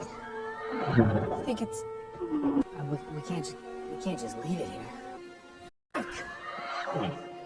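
A horse-like creature with a strange horn on its head neighs and whinnies in several shrill bursts, with a person talking over and between the calls.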